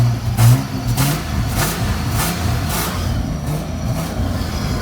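A 1JZ-engined wagon rumbles loudly close by as it is driven off a trailer, its engine holding a deep, throbbing note with slight revving and a steady low growl throughout.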